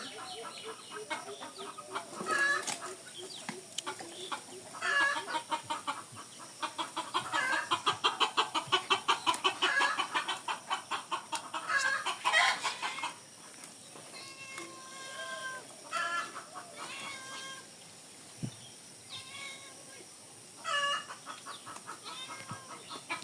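Several chickens cluck and squawk nearby in irregular bursts, joined by a cat meowing, over a soft background hum.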